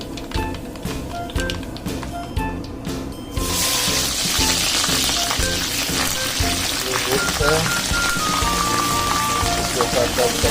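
Upma tempering crackling in a hot pan, mustard seeds and curry leaves on roasted semolina, a dense steady sizzle that swells loudly after a few seconds and continues without pause while a voice talks over it.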